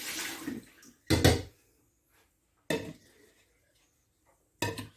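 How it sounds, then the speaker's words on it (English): Water splashing while a cooking pot is quickly rinsed at the sink, heard as a few short, close bursts of running and sloshing water separated by quiet gaps, with no talking. "Quickly rinse this out."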